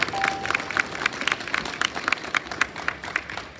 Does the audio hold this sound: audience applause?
yes